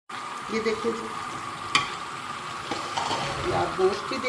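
Chunks of meat and cauliflower sizzle steadily in hot oil in a pan, a continuous bright frying hiss with occasional stirring scrapes and one sharp clink.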